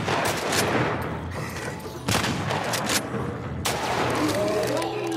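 Gunfire in The Last of Us Part 2: repeated loud shots and bursts crack through a dense, busy mix, with sharp blasts standing out near the two- and three-and-a-half-second marks.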